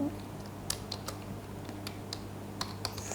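Light typing on a computer keyboard while writing C code, heard as scattered faint key clicks over a steady low electrical hum.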